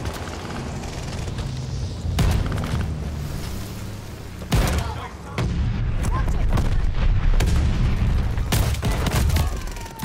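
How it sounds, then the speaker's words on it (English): In the Call of Duty: Vanguard video game, incoming bombs land in loud, booming explosions amid rattling gunfire. Heavy blasts hit again and again over a rumbling battlefield, and voices can be heard in the chaos. "Incoming bomb! Clear out!"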